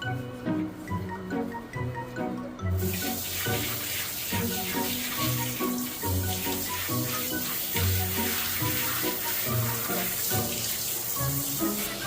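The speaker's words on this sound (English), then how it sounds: "You giving me a bath, Rock?" Tap water runs steadily into a tub or sink while Boston Terrier dogs are bathed after getting muddy, a continuous close splashing flow that begins after a brief quieter moment and carries on throughout.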